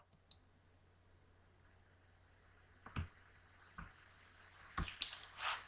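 Sparse mouse clicks while editing a video in Canva on a computer, a few single sharp clicks spaced seconds apart and faint against a quiet room hum, with no talking.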